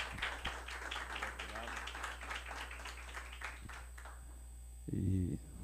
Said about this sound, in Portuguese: Receba com a salva de palmas.